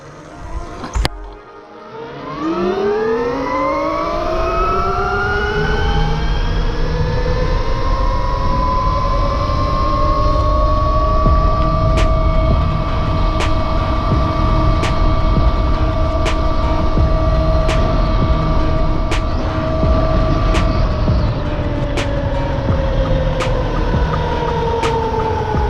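A 72V RAWRR Mantis X electric bike in race mode makes a top speed run, its motor whine climbing steeply in pitch and then holding a sustained high tone under steady wind rush, with faint periodic clicks.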